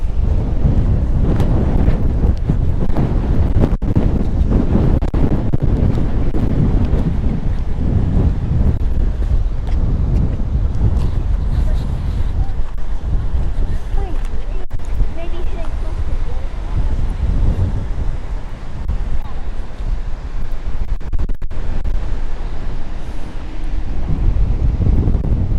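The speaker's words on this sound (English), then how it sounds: "The wind is picking up." Strong outdoor wind at Fort Yellowstone near Mammoth Hot Springs buffets the microphone with a continuous, loud, low rumble and gusts, while people talk throughout.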